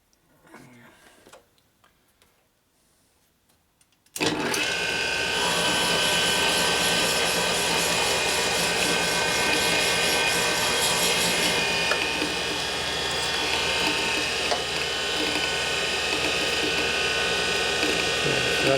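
Hard-tipped valve seats in a 1980 Harley-Davidson Sportster 74ci stroker cylinder head being ground, a steady loud whirring grind with a fine ratcheting buzz that starts abruptly after a quiet moment and runs continuously.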